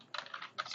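Rapid clicking of keys on a computer keyboard as an email address is typed, two close bursts of light tapping with a short pause between, no voices.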